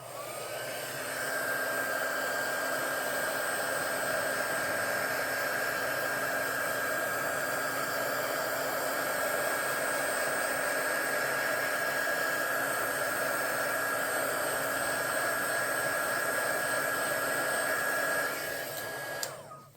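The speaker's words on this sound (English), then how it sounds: "Okay, heat gun." A heat gun blows steadily on poured resin to create a web effect, a continuous close whooshing roar with a faint high whine, running unbroken for nearly twenty seconds before cutting off.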